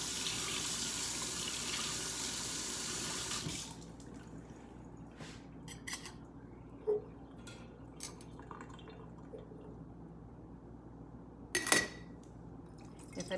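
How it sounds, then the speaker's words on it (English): Tap water runs loudly into a kitchen sink to rinse an upside-down funnel sieve used for chicken bone broth, then cuts off, leaving faint drips and occasional clinks of utensils. "turn it upside down and rinse it with water."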